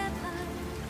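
Heavy rain pours down steadily, a dense, continuous wash of drops hitting surfaces, loud and close with no break, and no voices over it.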